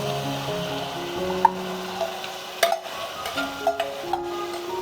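A spoon stirs boiled chickpea lentils into chicken in a pan, giving soft, irregular scrapes and knocks over a low sizzle.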